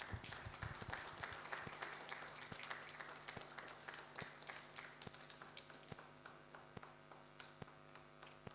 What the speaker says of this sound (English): A round of applause for the NERA's newest ambassador, national ambassador.